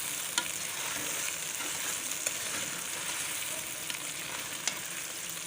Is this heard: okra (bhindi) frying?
yes